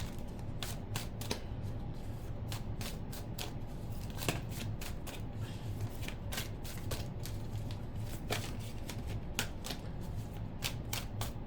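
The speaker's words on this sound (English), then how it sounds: "While I was shuffling this deck" A deck of cards is shuffled over and over, a rapid riffling with crisp flicks and snaps, steady and close.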